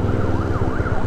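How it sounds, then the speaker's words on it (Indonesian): Ambulance siren wailing close by in traffic, a steady rising and falling tone over the low rumble of a motorcycle engine, brief and without talk. "Di mana tuh ambulan anjir? Gua kira di mana ambulan?"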